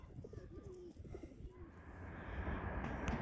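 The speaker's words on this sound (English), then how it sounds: "the birds are still munching away" Pigeons feeding on bread scraps outside a sports stadium, with soft cooing and bird calls over steady outdoor background noise that grows a little louder toward the end.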